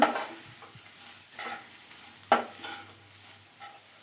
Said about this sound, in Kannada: ನೋಡಿ, ಈಗ ಈರುಳ್ಳಿ ಫ್ರೈ ಆಗಿದೆ. 1/4 ಟೀ ಸ್ಪೂನ್ ಅರಿಶಿನ, 1 ಸ್ಪೂನ್ ಚಿಲ್ಲಿ ಪೌಡರ್, 1 ಸ್ಪೂನ್ ಧನಿಯಾ ಪುಡಿ ಹಾಕಿ ಮಿಕ್ಸ್ ಮಾಡ್ಕೊಳ್ಳೋಣ.